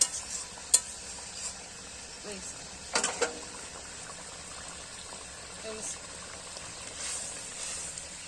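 Fish and cauliflower cook with cumin paste in a pan, a soft sizzle with a few stirring clinks and scrapes, while low voices talk in the background.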